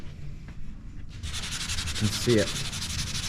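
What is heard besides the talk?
hand sanding primer on 94 Chevy Caprice hood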